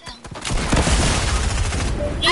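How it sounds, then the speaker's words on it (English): Rapid video game gunfire bursts loud and close, a continuous fusillade of automatic shots lasting the whole stretch with no pauses. "I'ma shoot at them to get their attention"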